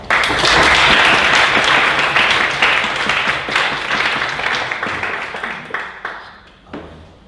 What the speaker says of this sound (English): a round of applause for our guest lecturer, Dr. Peter Pollock